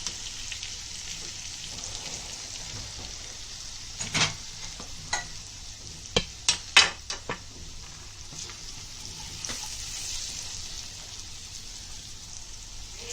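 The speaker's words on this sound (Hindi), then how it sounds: "मसाले डाल के थोड़ा सा पानी डाल के भूनेंगे।" Whole spices fry in oil with a splash of water for chicken petha masala, giving a soft, steady sizzle broken by a handful of sharp pops and spatters in the middle, with no talk heard.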